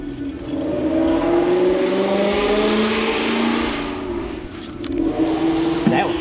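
A Ford Mustang 5.0 engine, topped with fresh oil, runs loud and steady close by, with its revs rising and falling. A brief sharp sound comes near the end.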